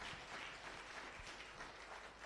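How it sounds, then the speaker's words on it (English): Faint, distant clapping from an audience honouring mothers and women at a gathering in Kenya, a soft steady patter of many hands with low rumbling in the background. "So let us give a very big round of applause to the mothers and the women."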